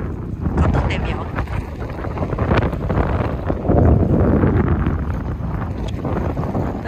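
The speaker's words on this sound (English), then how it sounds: "Too windy." Strong wind buffets the microphone in a steady, heavy roar at a lake while fishing, with water or boat noise mixed underneath and no clear pauses.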